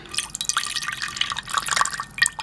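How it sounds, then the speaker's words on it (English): Cooking water draining off boiled potatoes in a home kitchen, heard as irregular splashing, dripping and trickling liquid in close, moderately loud bursts with brief pauses, no voices. "And then I drain the water off the potatoes."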